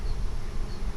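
Bees swarming and busy flying in and out around a hive, a steady, dense buzzing drone that fills the whole second without pause.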